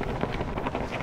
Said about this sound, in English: it is so freaking windy up here